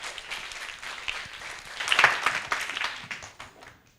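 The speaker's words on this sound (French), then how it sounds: "On les applaudit très très fort." An audience claps for children at a children's program. The applause is fairly light and scattered, builds to a brief peak midway with a few sharp claps, then thins out and fades.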